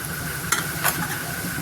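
Brief stirring strokes swish through a thick buttermilk kadhi batter in a pot over a steady sizzling background, two soft scrapes standing out.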